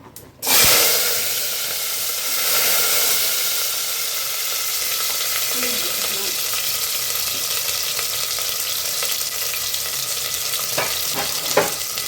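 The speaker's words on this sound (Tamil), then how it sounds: "எண்ணெய் காஞ்சிருச்சு, கடுகு போட்டுக்கலாம். வெங்காயம் பூண்டெல்லாம் போட்டுக்கலாம்." Mustard seeds, onion and garlic hit hot oil with a sudden loud hiss that settles into a steady crackling sizzle, with occasional pops and light utensil clicks near the end, and no talking.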